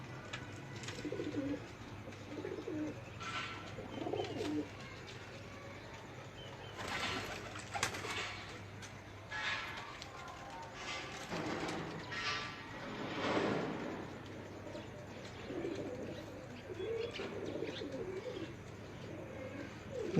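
Breeder pigeons of a prized bloodline coo softly at a moderate distance, giving repeated low rolling calls in irregular bursts over a quiet background.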